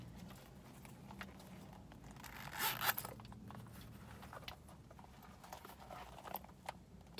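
Zipper on the main compartment of a thrifted handbag, a short rasping pull around the middle, quiet and close, among light handling rustles.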